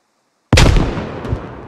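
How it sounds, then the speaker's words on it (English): A 40mm underslung grenade launcher in the military shooter SQUAD fires once after silence, a sharp, loud boom that rolls off into a long, fading rumble with a faint echoing tail. "These fire 40mm grenades and are highly effective against infantry in the open and light vehicles"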